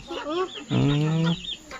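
A chicken gives a couple of short clucks followed by a longer, drawn-out squawk, close by with a little background hiss.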